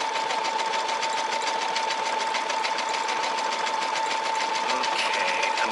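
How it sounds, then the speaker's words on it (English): A Brother SE630 sewing and embroidery machine stitching at a good, steady speed, giving a continuous fast mechanical whir with a constant hum and rapid needle clatter, close and unbroken throughout. "It's sewing at a good speed."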